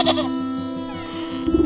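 A goat in a video game lets out a loud, close, wavering bleat that holds steady for over a second, followed by a short scuffle of movement.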